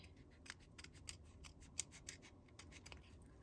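Scissors snip and trim the overhanging edges of a paper pad, with a quick run of close, crisp cuts and light paper rustle, no voices.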